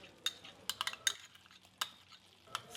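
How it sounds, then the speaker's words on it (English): A spoon stirs goat head curry after cumin paste is added, giving a few sharp metallic scrapes and clinks against the pot over a soft, low sizzle. "stir, cover and cook it further for 20 minutes."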